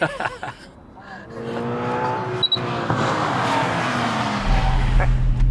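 A Lamborghini Huracán STO on an autocross course revs loudly, its engine note rising and falling through quick gear changes, then settling into a strong, close drone, with brief voices near the start.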